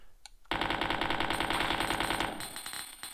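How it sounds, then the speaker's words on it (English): Sustained rapid automatic gunfire from a gun in Resident Evil 2, loud and close, rattling in a dense continuous burst for about two seconds before tapering into fainter shots and echo. "immediately raise your gun again and keep firing"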